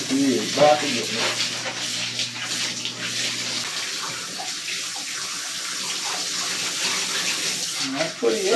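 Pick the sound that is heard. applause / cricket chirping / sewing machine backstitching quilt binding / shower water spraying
shower water spraying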